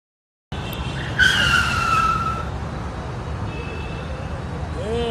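A cartoon car skids to a sudden stop with a loud screeching tire squeal that peaks early and then fades into a steady engine rumble, close and alone.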